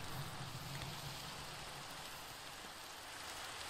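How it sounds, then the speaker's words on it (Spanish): Steady rain in Minecraft patters continuously, a soft even hiss of drops falling on surfaces, fairly quiet and unchanging. "Vamos a bajar un poquito porque la lluvia me está volviendo loco."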